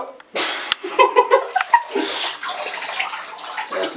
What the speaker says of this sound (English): We're filling up the bathtub right now.